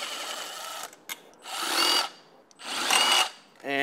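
A power driver spins out the bolts holding a motorcycle tail tidy in place, with two sustained whirring runs and brief trigger blips in between, close and fairly loud.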